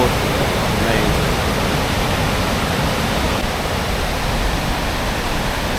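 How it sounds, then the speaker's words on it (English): Glacier meltwater in Iceland rushes loudly and steadily, a dense, unbroken roar close by with no pauses or talking. "And hence there's just so much water coursing."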